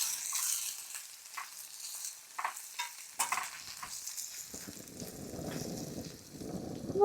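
Garlic cloves and chickpeas fry in a pan over a wind-blown flame outdoors at a lava-field recreation area, with scattered scrapes and clinks early on, then a steady crackling sizzle building toward the end.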